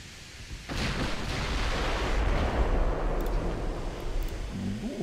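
Heavy battleship guns firing in the naval game Ultimate Admiral Dreadnoughts, a sudden deep boom followed by a long rumbling roll that stays loud for several seconds, with no voices.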